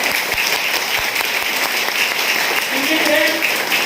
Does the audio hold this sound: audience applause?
yes